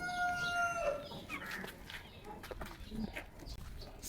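A rooster crows at the start while chickens cluck and fuss in a poultry farm coop, with soft ambient rustling and scattered bird calls throughout.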